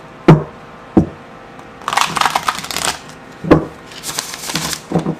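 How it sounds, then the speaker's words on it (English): Oversized Gaian Tarot cards are shuffled by hand, with sharp taps of the deck against a surface between bursts of riffling card noise, close and distinct. "that is how I put my signature into a deck, is by shuffling it"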